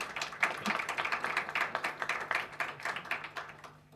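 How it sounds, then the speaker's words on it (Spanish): A small audience at a university literature colloquium claps for a presenter, a modest round of overlapping handclaps with a quick uneven rhythm that fades toward the end, with no talking. "Un aplauso, Florencia, por favor."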